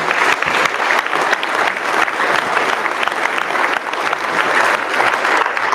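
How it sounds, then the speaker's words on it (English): Loud, sustained applause from a high school graduation crowd for the valedictorians and salutatorians, a thick even wash of many hands clapping with no pause. "another round of applause"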